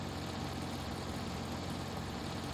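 A low, steady car engine in The Long Drive video game drones continuously at an idle-like pace, with a flat, labored rumble and no speech.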